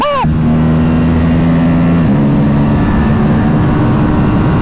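An RS 457 motorcycle ridden in Los Angeles traffic accelerates hard, its engine note rising then holding a steady loud drone after a quick upshift, close and continuous under the wind roar.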